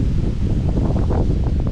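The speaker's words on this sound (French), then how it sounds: "il y a trop de vent" Strong wind buffets the microphone outdoors among trees, a dense low roar with gusting rustle throughout and no voices.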